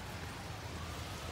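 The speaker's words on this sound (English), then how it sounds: "Okay, so I'll just show you the rain." Rain falls steadily during stormy weather, an even, dense hiss of drops on surfaces that is fairly faint and unchanging throughout, with no voices.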